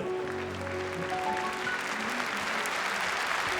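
Audience applause in a hall, a dense steady wash of clapping that holds at an even loudness throughout, with sustained musical tones underneath at the start.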